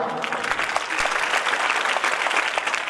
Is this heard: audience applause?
yes